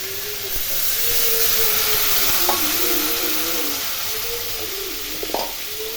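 Coriander-chili paste sizzles in a pan with a splash of water for Bengali fish curry, giving a steady loud hiss with a few faint clinks and scrapes near the end.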